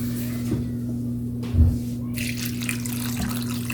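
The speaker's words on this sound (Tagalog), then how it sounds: "Mga 2 basong tubig ilalagay natin" Water pours and splashes steadily into a cooking pot of beef skin, close by, with a low mechanical hum underneath and a brief thump partway through.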